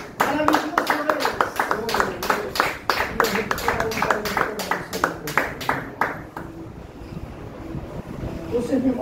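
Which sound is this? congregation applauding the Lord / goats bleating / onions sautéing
congregation applauding the Lord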